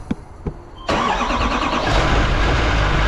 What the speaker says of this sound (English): Kev, turn this truck on